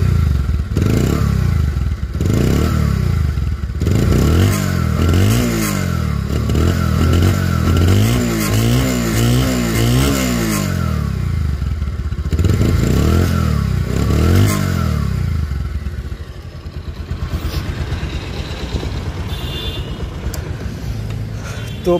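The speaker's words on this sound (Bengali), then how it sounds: "গাড়ি কিন্তু স্টার্ট হয়ে গেছে," A late-2021 Bajaj Pulsar double-disc, double-ABS motorcycle in fresh condition runs steadily after a self-start, its engine idling close and loud with repeated rising and falling revs, then settling to a lower idle.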